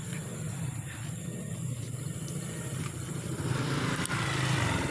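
A motor scooter passes by outdoors, its steady mid-pitched engine drone building louder toward the end, with a faint clatter and no speech.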